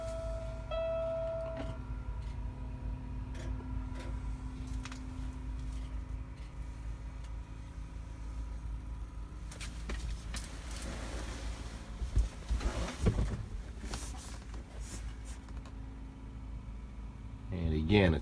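A 2015 Peterbilt 389 truck engine idles with a low, steady rumble at moderate distance, with some clunks and a brief burst of activity partway through; a person talks over it.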